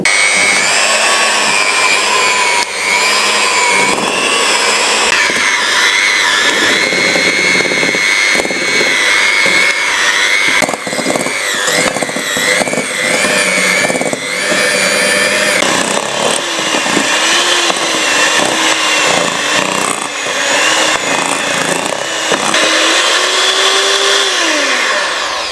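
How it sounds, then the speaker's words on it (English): An electric mixer whisks vegan butter and sugar in a bowl, a loud, steady high whine running without pause, its pitch wavering as the beaters work. "And then we're going to whisk this until it's light and fluffy."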